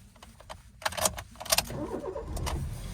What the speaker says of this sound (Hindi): गाड़ी हमने स्टार्ट कर ली।